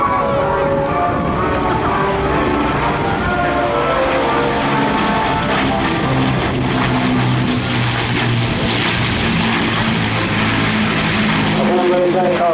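A Lancaster bomber flies over the Eastbourne airshow, its loud droning propeller engines sustained throughout while a commentator speaks over the noise.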